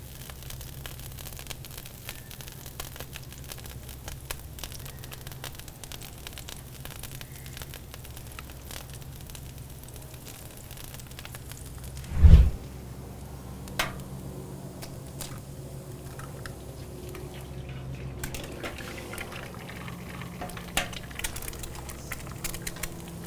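Butter and fried eggs on a Pit Boss four-burner ceramic-coated griddle give a steady, quiet crackling sizzle throughout, broken by one brief louder thump.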